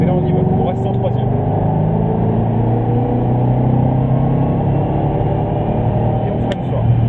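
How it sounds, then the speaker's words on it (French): A Ford Mustang accelerates out of a chicane with a loud, steady engine roar and deep low rumble heard from inside the car, while someone talks over it throughout. "Là, on prend la chicane. Voilà. Et on peut accélérer."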